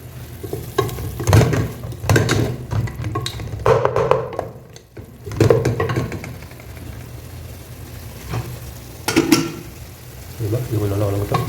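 Onions and spices for Dindigul mutton biryani sautéing in a pan, loud sizzling and stirring with repeated spatula scrapes, while a person talks over the cooking throughout.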